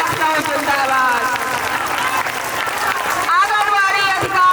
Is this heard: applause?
yes